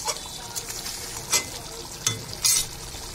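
Curry bubbling and sizzling in a pan after the spices go in, with a steady low crackle broken by a few sharper bursts of stirring.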